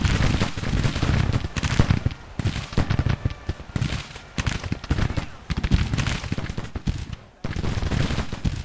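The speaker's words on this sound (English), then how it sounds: "The artillery seems to be able to hit them." Guns fire during a Civil War battle near Fairfax in the strategy game Grand Tactician, with dense, ragged volleys and booms rolling continuously at a loud, busy level with brief lulls.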